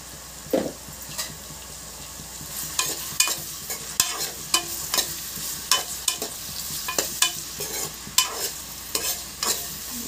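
Onions sautéing with a pinch of turmeric in a pan: a low steady sizzle under frequent rhythmic spatula scrapes and taps against the pan, close, with no talking.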